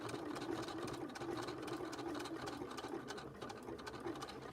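Sewing machine stitching a zipper purse with pink thread, a close, steady rapid mechanical whir and clatter running continuously, with no talk.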